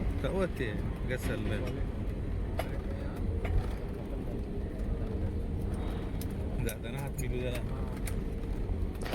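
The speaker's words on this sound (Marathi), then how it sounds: "बघू शकताय विमान रनवेवर चालत आहे" Inside a passenger plane from Hyderabad taxiing on the runway after landing at Santacruz airport in Mumbai, a constant low rumble and whine of the cabin runs throughout, with occasional clicks and soft voices underneath.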